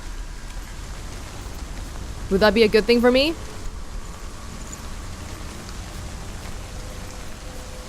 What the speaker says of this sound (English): It's raining now.